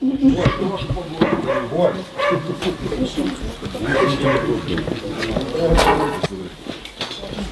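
A dog whimpers and yips amid busy, close sounds, with a voice talking over much of it.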